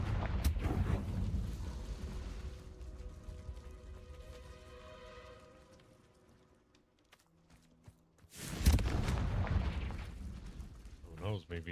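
A Confringo blasting curse explodes in Hogwarts Legacy with a loud booming burst at the start and another near the end, rumbling low and close, with a quieter stretch of game noise between.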